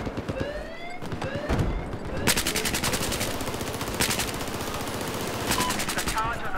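Rapid bursts of automatic gunfire from a video game shooter, with repeated volleys that start and stop across the clip and some louder single shots, heard alongside a voice speaking over the action.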